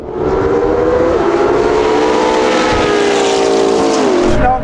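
A LaFerrari, Porsche 918 and McLaren P1 racing flat out, a loud sustained high-revving engine roar with rising and shifting tones for several seconds before cutting off abruptly, no voices.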